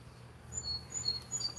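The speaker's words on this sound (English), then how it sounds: "listen to all these birds." Thin, high bird chirps repeat every few moments, faint and somewhat distant, over a quiet outdoor hiss.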